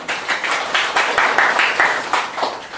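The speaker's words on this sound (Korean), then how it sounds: "다시 한번 박수를 보내는 것으로 일단" Audience applause at a book-launch lecture event, with many hands clapping in a steady, dense patter for about three seconds, moderately loud, no voices.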